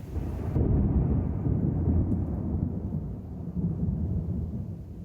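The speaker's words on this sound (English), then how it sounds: "Thunder?" A loud rumble of thunder rolls on for several seconds, heavy and close.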